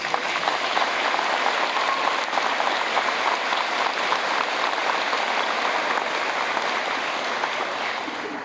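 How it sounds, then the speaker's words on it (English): Sustained, dense applause from a large crowd of graduates at a high school Hall of Honor induction ceremony, steady and loud throughout before tapering slightly at the end. "Let's, graduates, give them a round of applause, please."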